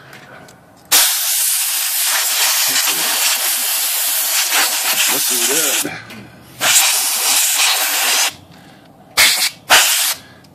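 Compressed air hisses in long bursts over a vintage pink Smith Corona electric typewriter, blowing off dust: one sustained blast of about five seconds, then shorter spurts, loud and close, with a brief spoken remark.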